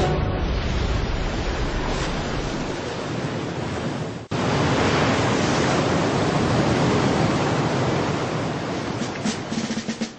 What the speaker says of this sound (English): The Atlantic swell around the bottom of the oscillating water column should be enough